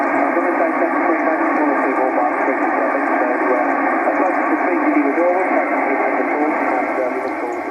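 A voice comes in over a Yaesu amateur radio speaker a foot from the microphone, band-limited and steady, sounding continuous and fairly loud throughout.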